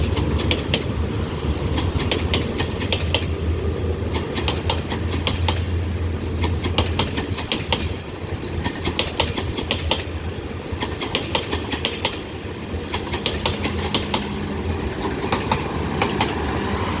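Special tourist train of maroon cars trimmed in gold, with a generator car at the rear, rolls past close by, its steady wheel clatter and rumble continuous throughout with rhythmic clicks over rail joints.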